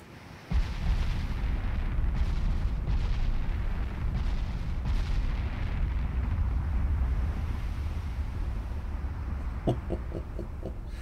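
Heavy naval guns of a US super battleship fire in the video game Ultimate Admiral Dreadnoughts: a sudden loud boom gives way to a long, deep rolling rumble, and a few sharp clicks come near the end.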